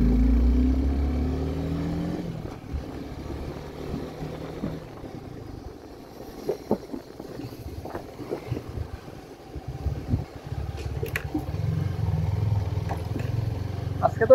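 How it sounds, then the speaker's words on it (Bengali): A Suzuki Gixxer 250 motorcycle being ridden gives a low engine drone under heavy wind buffeting, clearer at the start and end, with people talking over it. "প্রথমবার জিক্সার 250 চালিয়ে"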